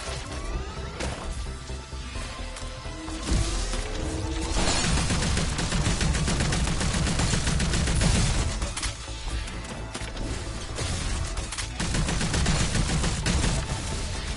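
Repeated shotgun blasts and heavy gunfire from the video game Arc Raiders, dense and loud throughout, with crashing impacts mixed into the barrage.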